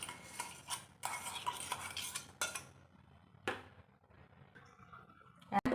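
Chikoo pulp is stirred into whipped cream in a bowl, with bursts of spoon scraping and soft clinks against the bowl separated by quiet pauses, close and unaccompanied by voices.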